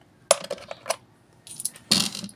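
Coins drop into the coin slot of a pisonet rental computer timer, giving a few sharp metallic clinks and rattles in quick bursts, close and fairly loud, with no talking.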